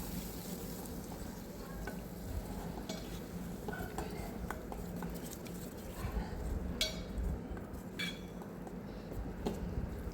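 Ground masala paste roasting in a pan on a low flame for a spicy village-style drumstick curry, with quiet stirring and occasional spoon clinks against the pan over a faint continuous sizzle.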